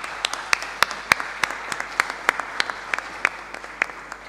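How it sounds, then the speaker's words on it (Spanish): A small group claps during a municipal council session, sparse distinct hand claps mixed with a softer bed of clapping, a fairly thin and uneven round that slowly tapers. "damos un aplauso y muchas gracias"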